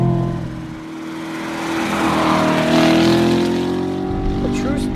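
A 2014 Chevrolet Corvette Stingray powers out of a corner on a race course, its engine note rising in a loud, sustained accelerating roar, with someone speaking over it.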